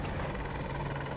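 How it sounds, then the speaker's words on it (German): AH-64 Apache attack helicopter in a first-person shooter on the Hourglass map, a steady whirring rotor drone with a low hum, close and constant through the short moment. "Noch ein Heli."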